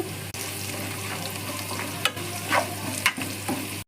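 Onions fry in a pan with salt and turmeric for palak rice, giving a close, steady sizzle broken by a few sharp scraping stirs near the end.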